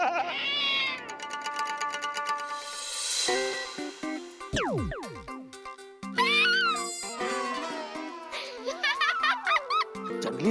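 A cat meows in a Hindi comedy series, its rising and falling cries tangled with busy music, cartoonish sound effects and sliding tones over about ten seconds.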